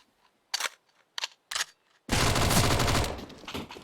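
Rapid SMG gunfire bursts in a competitive esports video game match: a few short scattered bursts, then a dense sustained roar of overlapping automatic fire that trails off, loud and close.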